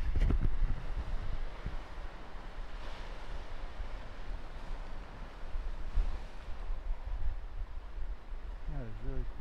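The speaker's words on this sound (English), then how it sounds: "Oh wow, look at the waves." Ocean surf surging against the rocky coast at Thunder Hole in Acadia National Park, a continuous rumbling wash with heavy wind buffeting the microphone and a brief voice near the end.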